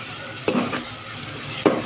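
Onions browned in a pan are stirred with ginger garlic paste for a kofta curry, with a steady sizzle of frying under two sharp scrapes of a spoon against the pot, heard up close with no talking.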